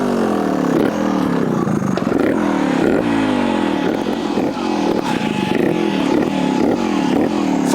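A 2024/25 Vertigo RS2 fuel-injected trials motorcycle revs repeatedly under short throttle blips, its engine rising and falling in a rhythmic, loud, close buzz with some mechanical clatter.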